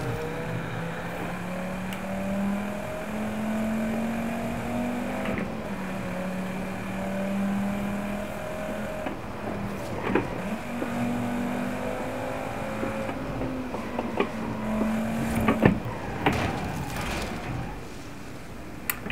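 Ford Focus RS engine in Forza Horizon 5 drones steadily at near-constant revs, its pitch rising and falling slightly, with scattered knocks and scrapes toward the end and no talk.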